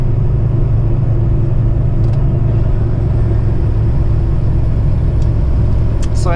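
A loaded truck hauling a CAT 336 excavator rumbles steadily along a highway toward an exit ramp, with deep, constant engine and road noise and faint squeaks near the end.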